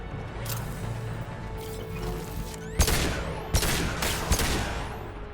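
Gunfire in the video game Mass Effect 2 arrives as a few sharp, loud shots near the end, each rising out of a steady background of game ambience and low hum.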